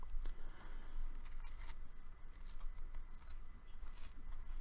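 Cotton fibres being pulled and ripped into fine wisps for Halloween mini pumpkin decoration, a continuous close, soft scratchy rasping and tearing with repeated pulls and no talk.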